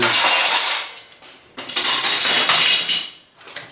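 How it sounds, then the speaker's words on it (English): Metal clamps are dropped in a workshop during a plywood patch panel clamp build, making repeated loud, close metallic clattering and clinking bursts with brief pauses between them. "still dropping clamps everywhere."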